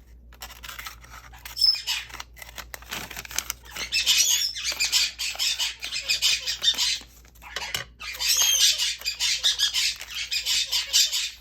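Loud, repeated harsh squawks from birds come in bursts, stopping briefly and then starting again, heard close by in a quiet room.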